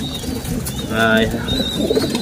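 Pet pigeons or doves kept by a breeder coo close by, a soft throaty rolling call that swells in the middle, over a quiet background with faint speech.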